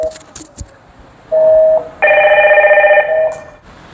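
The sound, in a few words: video door phone bell ringing inside flat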